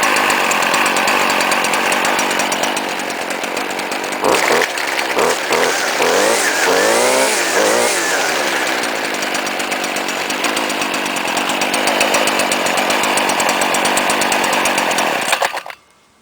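A Stihl FS70-RC gas string trimmer runs close and loud, its two-stroke engine buzzing steadily like a chainsaw, revving up and down in the middle before cutting off abruptly at the end.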